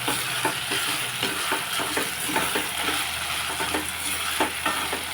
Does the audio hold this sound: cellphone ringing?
no